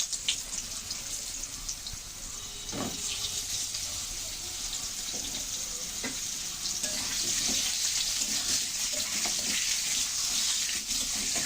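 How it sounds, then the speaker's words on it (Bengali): Kohlrabi and potato chunks go into hot oil after a tempering and fry with a steady, moderately loud hiss, broken by a few sharp clatters of stirring near the pan. "এখন দিয়ে দিচ্ছি ওলকপি আর আলু"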